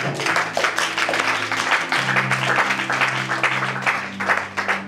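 A church congregation applauds in rhythmic waves, dense clapping that swells and dips over a sustained hum of music or voices in the hall.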